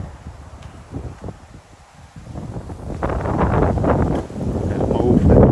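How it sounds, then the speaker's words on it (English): Strong wind blows outdoors past factories near London under a heavy cloudy sky, rumbling and buffeting the microphone in gusts that grow louder toward the end. "Over the sky, heavy, windy and cloudy."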